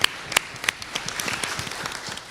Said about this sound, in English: So one more round of applause for everybody.